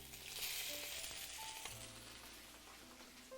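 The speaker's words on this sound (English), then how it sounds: "I'm going to start frying off these, searing off, sorry, these beautiful chickens" Chicken pieces searing in a hot pan give a steady, close sizzle and crackle with a few faint clinks, continuous throughout.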